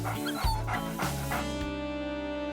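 A small puppy gives faint, brief whimpers and yips over a soft background of sustained tonal sound, quiet and close, with no talking.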